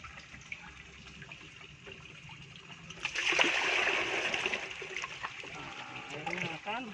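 Water flows down in a koi pond without a bottom drain, starting as a faint trickle and swelling midway into a louder, close rushing splash, then easing slightly.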